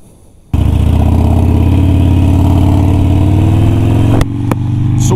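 A Harley-Davidson Sportster motorcycle engine fires up and runs loud and close at a steady idle, with a brief blip of the throttle near the end.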